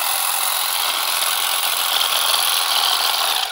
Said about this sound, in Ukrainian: Газонокосарка, бляха, мини.